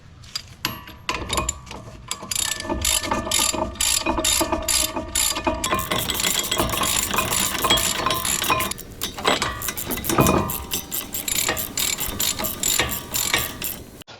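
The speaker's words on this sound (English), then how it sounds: "we're going to use a 1/2-inch torque wrench, and we're going to torque these 21mm bolts to the bracket to 148 foot-pounds" A 1/2-inch torque wrench ratchets as 21mm brake caliper bracket bolts are tightened on a Dodge Dakota, giving dense, fast metallic clicking close up in continuous bursts with brief pauses, loud and with no talk.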